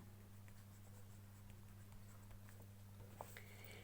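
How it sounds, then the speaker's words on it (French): A pen scratches across paper as a title is written, giving a faint, fine scratching with small taps, close and quiet over a low steady hum. "Alors, là, j'écris le titre."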